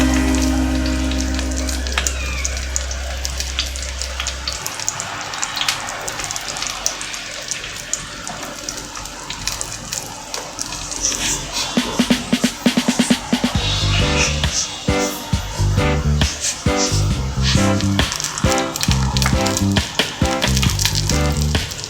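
Spoonfuls of ripe banana fritter batter fry in hot oil, a continuous dense crackling sizzle that stays close and loud, with a low thump early and clinking of a spoon or pan throughout.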